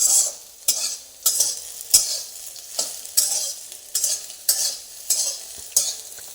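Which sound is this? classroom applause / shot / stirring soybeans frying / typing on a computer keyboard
stirring soybeans frying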